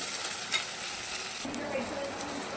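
Onion fries in hot oil with curry leaves in a pan, a soft, even sizzle with faint scraping and a light low hum beneath.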